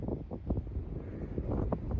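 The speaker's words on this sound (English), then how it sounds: "It's windy." Low, blustery, cold wind in Big Bend buffets the microphone in uneven gusts, a rough rumbling rush with no voices.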